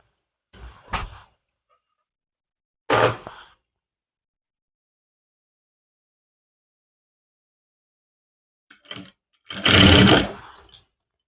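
A sewing machine stitches over trouser fabric beside a zipper in brief bursts: two short ones near the start, then silence, then a longer burst of about a second near the end, with no talking.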